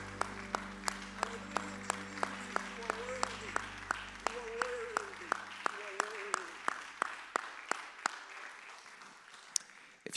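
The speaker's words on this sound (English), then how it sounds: "One more time, clap your hands mightily to the Lord." A church congregation claps in praise during a service, with steady rhythmic beats at an even pace, moderately loud and fading into a few last claps near the end.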